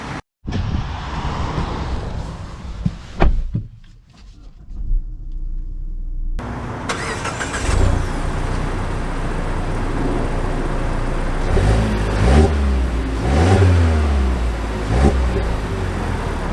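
A 2023 Mazda CX-5 Signature Turbo engine starts and then runs steadily as the SUV drives off, a continuous low rumble of engine and road noise that swells and varies over time, with no talking.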